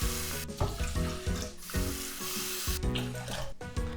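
Water poured into a container of rice at a 1 to 1.2 ratio for soaking before cooking rice for Spam musubi: a steady, close splashing rush with small surges and dips throughout.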